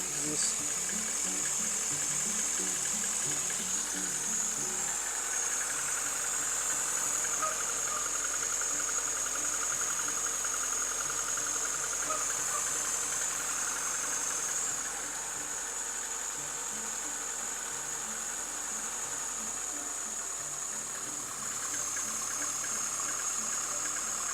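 A VAZ 2109 engine with a burnt valve runs at idle with its valve cover removed, giving a steady close mechanical chatter and hum throughout, with a faint high whine above it.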